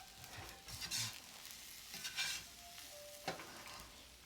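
Fried rice with soy sauce being stirred in a pan, a faint low sizzle beneath soft, irregular scraping and tossing scrapes.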